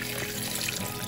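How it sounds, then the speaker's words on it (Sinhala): Ice water pours steadily into a blender holding pitted rambutan flesh, a brief, close, continuous splashing trickle. "අයිස් වතුර කෝපයක් විතර එකතු කරගන්නවා"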